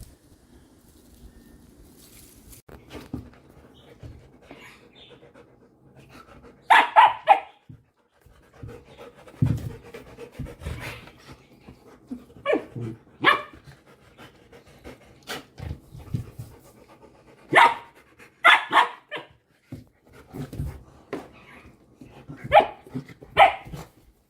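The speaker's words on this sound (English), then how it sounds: "Okay, don't bark and scare her." A standard poodle pants in short rhythmic bursts, joined by scattered sharp barks and brief growls, close by in a quiet indoor room with no talking.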